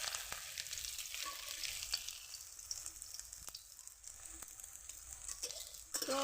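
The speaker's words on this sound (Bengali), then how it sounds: "উল্টিয়ে পাল্টে এরকম আমি সমস্তগুলো আস্তে আস্তে করে উল্টিয়ে পাল্টে ভেজে নেব" Small shrimp and coconut fritters frying in hot oil, a steady close sizzle with faint crackles and a few sharp clicks as pieces are turned, no voices.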